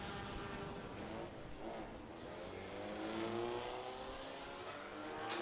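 Race cars at the 25th JK Tyre FMSCI National Racing Championship lap the circuit, their engines revving and whining past at a distance in a continuous, fairly faint blur of motor noise.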